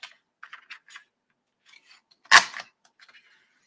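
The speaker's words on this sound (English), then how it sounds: "So I'm going to use my scallop border punch" A scallop border punch snaps through paper while a card is being made, one loud, sharp crunching punch midway after a few soft handling clicks, with no talking.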